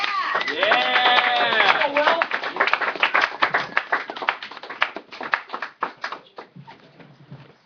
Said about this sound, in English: Please give a round of applause to Will Palmer, everybody